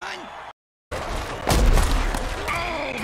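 A football tackle in a video game lands as a heavy booming thud, followed by loud crowd noise and game sound effects, with a voice talking over it.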